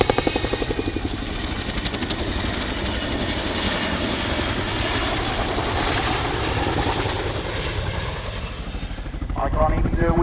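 An RAF Chinook helicopter flying at the Cosford Airshow, a loud continuous rotor thump and engine drone that holds steady, with an announcer talking over it.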